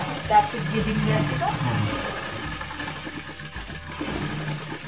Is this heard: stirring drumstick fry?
no